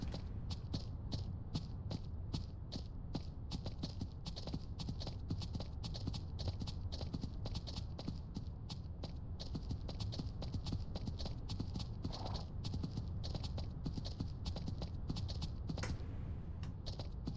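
Horse walking in the farming game Ranch Simulator, a long steady rhythm of hoof clip-clops at a brisk even pace, fairly quiet and close, with a faint background hum and occasional creaks.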